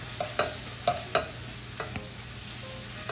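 A spoon or spatula stirs a mushroom filling with thyme, salt and pepper in a pan, making several distinct scraping knocks over a constant low sizzle.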